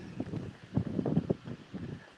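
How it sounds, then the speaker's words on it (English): Wind gusting by a lake, a low rumbling buffet against the microphone that swells and fades in bursts over a couple of seconds. "I'm trying to get away from the lake here so it's not so windy."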